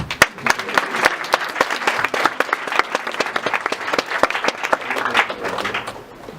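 Sustained applause from an audience, many hands clapping steadily and fairly loudly throughout, without letting up.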